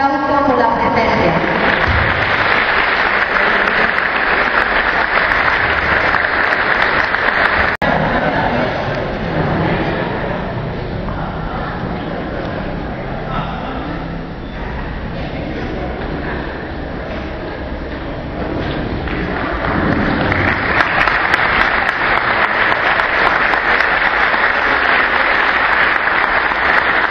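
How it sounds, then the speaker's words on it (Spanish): A crowd applauds attending groups at a regional sports event in Misiones, Argentina, sustained loud clapping that dips somewhat in the middle then swells again, with voices underneath. "A todos ellos un fuerte aplauso por la presencia."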